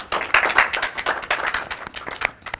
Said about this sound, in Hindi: एक दूसरे के लिए तालियां बजाएं।